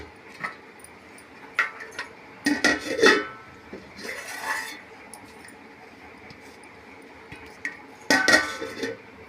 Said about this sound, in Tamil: ஒரு மூடி போட்டு நம்ம மூடிப்போம்